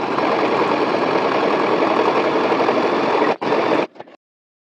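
A sewing machine stitches a gather on a fabric hair bonnet, running in a steady, fast, even whirr close up, then stopping briefly, restarting for a short burst and a few final stitches before falling silent.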